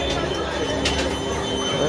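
The Shalimar–Puri Jagannath Express pulls into a station, its rolling rumble and faint wheel squeal heard close over a steady roar, with people talking loudly near the train.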